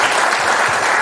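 Hearty applause from a seated audience after a lawmaker's lecture at a presidential hopeful's meeting, a brief dense burst of many hands clapping close and loud.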